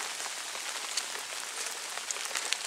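Rain falls steadily in a hushed spread of patter near an old burial mound, with scattered sharper drips standing out against the soft continuous hiss.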